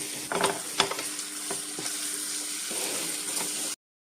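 Asafoetida powder being stirred into a frying green mango mixture in a pan, a steady sizzle with scraping stir strokes and a few sharp spoon knocks, close and alone.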